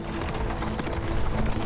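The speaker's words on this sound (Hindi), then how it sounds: "ये घोड़ा गाड़ी और तेज नहीं चल सकती सर।" Hooves of a horse-drawn carriage clip-clop in a steady, continuous rhythm at moderate distance, mixed with rolling movement noise, with no voices.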